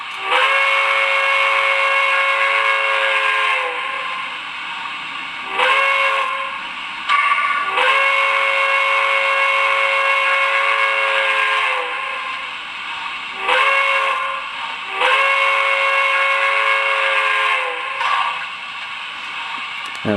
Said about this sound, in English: Okay, here's the whistle.